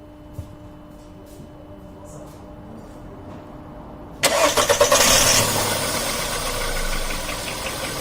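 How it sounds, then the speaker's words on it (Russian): A VW Polo's engine is started during steering-rack repair work: quiet background first, then a sudden loud, close crank and catch about halfway through, settling into a steady, rumbling idle. "Заводим машину."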